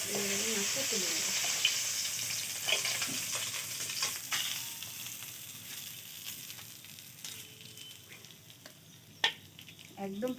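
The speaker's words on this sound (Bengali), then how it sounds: "ভাজা হয়ে গেছে, মাছটা তুলে নেবো।" Fresh pond fish fries in hot oil in a village kitchen in the Sundarbans, a loud close sizzle that slowly fades, punctuated by clattering stirring and a sharp knock near the end.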